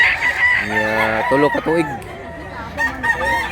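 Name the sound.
rooster crowing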